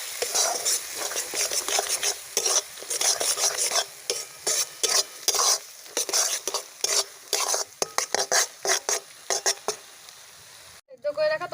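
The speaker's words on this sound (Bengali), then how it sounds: "এবার ডিমটা খুব ভালো করে আমি মিশিয়ে দেবো।" Eggs are stirred hard into dal seasoned with kasuri methi and tarka masala, a utensil scraping and clattering against the pan in quick, busy bursts over a steady sizzle, close and loud, with no talk.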